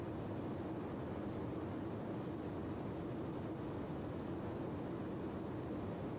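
Constant loud cabin roar inside a Concorde airliner in Microsoft Flight Simulator 2024. A steady, broadband rushing drone holds unchanged throughout with no talking.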